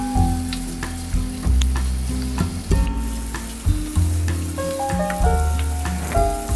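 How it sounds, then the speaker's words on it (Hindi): Chicken and spices frying in oil in a karahi over a medium flame, a steady close sizzle with repeated stirring scrapes and clinks throughout. "इसको मीडियम फ्लेम पे फ्राई करते रहना है"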